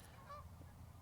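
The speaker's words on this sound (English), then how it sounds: "The geese are trying to go" A goose gives a brief, faint honk or two in the distance, low and short over a quiet background.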